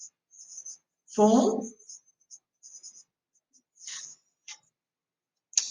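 Chalk or pen scratches across a board in short bursts and taps, with a quiet voice speaking briefly between the strokes.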